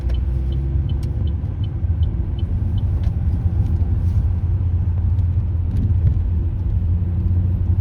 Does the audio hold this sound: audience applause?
no